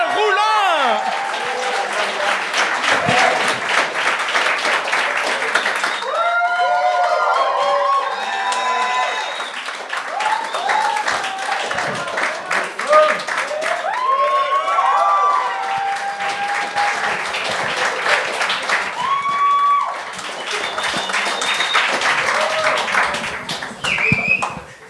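A studio audience on a French-language gong show applauds and cheers a comedian, loud dense clapping mixed with whoops and shouting voices, rising and falling in waves over a long stretch.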